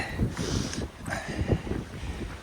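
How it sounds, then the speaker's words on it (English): Gusty Santa Ana wind buffets the microphone in uneven bursts, loud and close, with no one speaking. "Windy, of course. Santa Ana wind"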